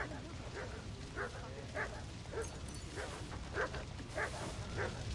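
A dog in the video game Kingdom Come: Deliverance 2 gives a series of short barks and whimpering yips, repeated roughly every half second, fairly quiet over a low game background.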